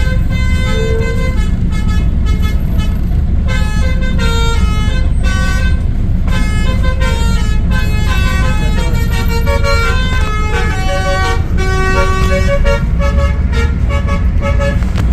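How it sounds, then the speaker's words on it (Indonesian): A Sinar Jaya or Didi Jaya intercity bus plays its basuri musical horn, a loud, sustained melodic tune of bright tooting notes lasting throughout, with a busy engine and road rumble underneath. "kita dengerin dulu basurinya"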